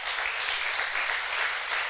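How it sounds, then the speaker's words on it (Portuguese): A church congregation applauds in a full, steady wash of clapping that holds at an even level throughout, with no voices standing out. "Vamos aplaudir o nome do Senhor."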